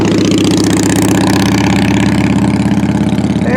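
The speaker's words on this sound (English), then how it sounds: "That's a loud motorcycle." A motorcycle engine chugs loud and close in a steady pulsing rhythm on a road beside a workshop, with no talk over it.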